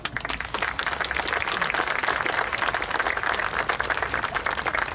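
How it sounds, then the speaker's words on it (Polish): Sustained audience applause at an outdoor music event in Poznań, a dense wash of many hands clapping steadily and fairly loud for about five seconds, with no voices over it. "wielkie brawa."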